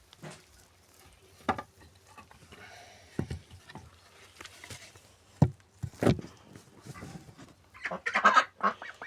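Scattered quacking and honking from several ducks outdoors, in short irregular bursts with quiet gaps between them.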